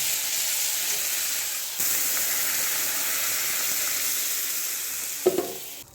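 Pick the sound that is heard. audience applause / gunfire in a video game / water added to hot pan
water added to hot pan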